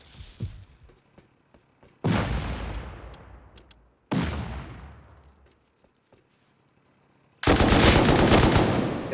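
Video game gunfire in an online shooter: a faint distant burst, then two loud sustained automatic volleys each fading away, and a final heavy close barrage, with no talking.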